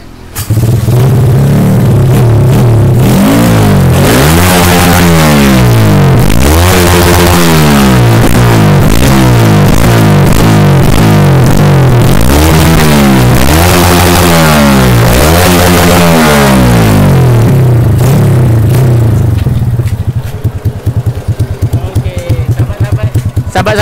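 A tuned Kriss motorcycle engine fires up and revs hard, repeatedly rising and falling through loud throttle blips over a deep idle, very close, before settling back toward idle near the end.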